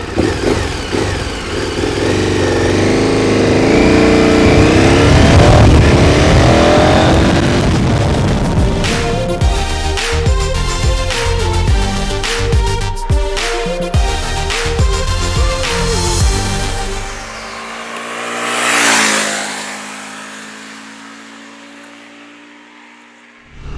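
A KTM Super Adventure 1290 S motorcycle engine roaring loud and close, rising through revs with hard accelerating pulls, then easing off and surging again near the end.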